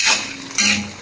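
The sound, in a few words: stirring chop suey vegetables in a pan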